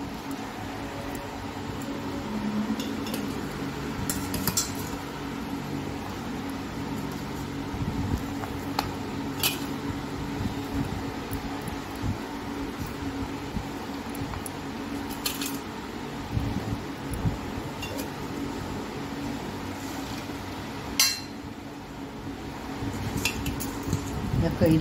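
Raw green mango pieces are dropped into a bowl of turmeric-spiced pickle masala, giving soft wet squishes and light clinks of a utensil against the bowl, close and fairly steady, with no one speaking.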